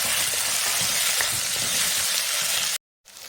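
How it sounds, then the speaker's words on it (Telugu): Finely chopped tomato frying in a pan for hotel-style sambar, a dense, even sizzle with soft stirring clatter, close and continuous, then cutting to silence near the end before the sizzle resumes briefly. "ఇది మెత్తగేంత వరకు ఫ్రై చేసుకోవాలి."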